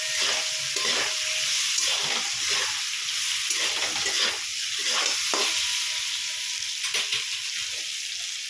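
Papad curry sizzles in a pan as salt and turmeric are stirred in, with a constant frying hiss and repeated spoon scrapes against the metal, close and without talk.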